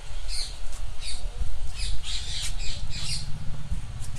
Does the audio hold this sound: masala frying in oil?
no